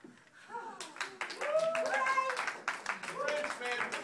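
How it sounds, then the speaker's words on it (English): Cheering voices and scattered clapping from a group of passengers, lively and fairly close, with excited chatter mixed throughout. "Some of them cheer and clap."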